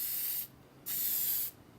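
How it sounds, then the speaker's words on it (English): Light bursts from a Merlin 2 sprayer applying paint for texturing and coloring, two short soft hissing sprays separated by a brief pause, close and steady, with no talking. "Just a light spray."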